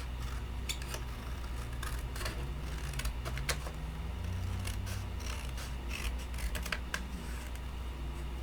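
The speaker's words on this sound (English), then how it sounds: "You're just going to go ahead and cut that off" Scissors snip through a paper flap on a large 11x11 double fold folio, giving a run of close, crisp cuts and light clicks at a steady pace, with no voice over them.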